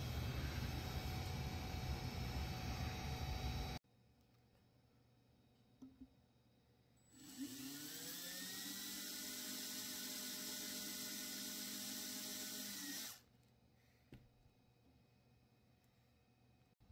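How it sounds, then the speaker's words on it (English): Power drill boring pilot holes into an antique wooden desk being made into a chest, one steady whirring run of about six seconds with quiet pauses before and after and a louder, different noise at the start. "And then I'm about to drill the pilot holes for this."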